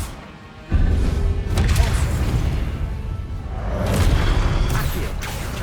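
Expelliarmus spell cast in Hogwarts Legacy combat: a sudden heavy boom with a whooshing magical burst, followed by sustained rumbling impacts and a second swelling surge, loud and close.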